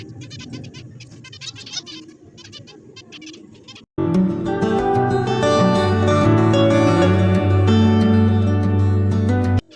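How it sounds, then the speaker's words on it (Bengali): Caged budgerigars chirp in quick, busy bursts for the first few seconds, and then loud music cuts in and drowns them out. "দেখো আমাদের এদিকে বদ্রি পাখি আছে"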